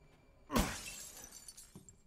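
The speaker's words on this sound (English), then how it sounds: "Breaks the glass" Glass shatters in the horror video game Resident Evil Village: one sharp, loud smash followed by a tinkling cascade of falling shards that fades, with a small thud near the end and no talk.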